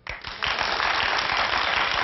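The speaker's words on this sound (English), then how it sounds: "I want you to clap for the one you think is the most expensive" A studio audience claps together in a broadcast TV studio, a brief patter building quickly into sustained, dense applause that holds steady and loud to the end, with no talk over it.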